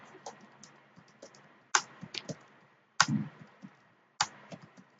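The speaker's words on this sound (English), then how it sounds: "So I'm typing some random numbers." Numbers are typed on a computer keyboard in quick bursts of crisp, close clicks, with a few sharper key strikes standing out between softer taps, and no talk over them.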